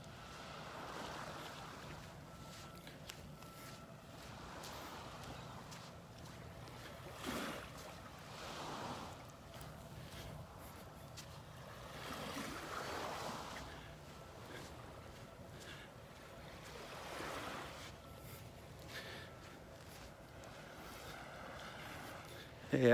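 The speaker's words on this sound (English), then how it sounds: "The waves are letting up." Calm ocean waves washing gently onto a sandy beach on a clearing morning, a soft continuous rush with slow swells rising and falling, light wind noise across the microphone.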